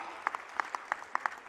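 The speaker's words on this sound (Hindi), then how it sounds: "अब बताओ अभी हो रहा कि नहीं हो रहा, जोरदार ताली बजा के बताओ" An audience at a youth conclave in Indore claps, heard faintly and at a distance as scattered individual claps rather than a full, dense round of applause.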